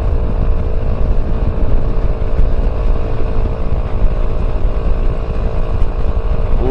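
A motorcycle ridden along the road as heard from inside a rally helmet, a loud, constant droning engine and wind roar with a low rumble and no change in pace, no voices.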